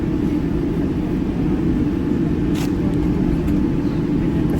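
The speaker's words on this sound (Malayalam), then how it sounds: "ഇതുവരെ ഫ്ലൈറ്റ് അങ്ങ് പൊങ്ങിയിട്ടില്ല, താഴെ കൂടെ കിടന്നിങ്ങനെ ഓടിക്കണം" Inside the cabin of an airliner taxiing on the ground before takeoff, a steady low engine rumble and hum drone continuously at moderate loudness, with a faint brief bump partway through.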